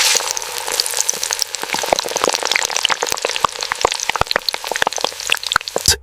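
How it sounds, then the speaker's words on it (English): Chicken burger patties fry in oil on a factory line, a loud, dense, continuous sizzle with constant crackling pops up close. "The golden fry."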